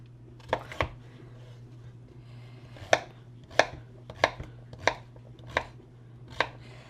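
A knife chopping sweet potato into bite-sized pieces on a board, a series of about nine crisp, evenly spaced thunks over a low steady hum, close by with no voices.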